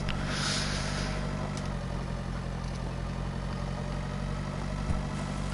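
Tractor engine idling in the Pure Farming 2018 farming game, a steady low mechanical drone held evenly throughout with no talk.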